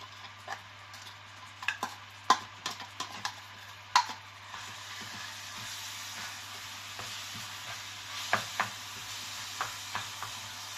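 Sliced onion and garlic sauté in a pan for Bicol Express, a soft continuous sizzle broken by scattered sharp clicks and scrapes of stirring, with no talk over it.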